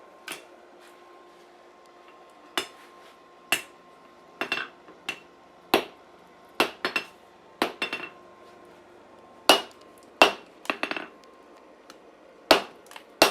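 Sharp metallic strikes ring out irregularly as a hammer forges scrap steel, some single and some in quick clusters, against a quiet background with a faint steady hum.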